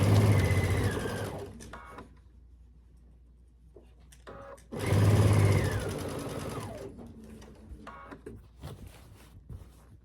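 A sewing machine stitches scalloped quilt binding around curves in two short bursts, each whirring fast and then slowing, separated by quiet pauses filled with small handling clicks and rustles.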